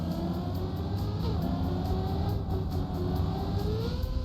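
Engine drone from a car in a racing video game hums steadily and fairly quietly, pitch climbing and easing as the throttle is worked, with faint rhythmic ticks alongside.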